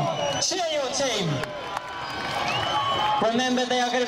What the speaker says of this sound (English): Cheer your team.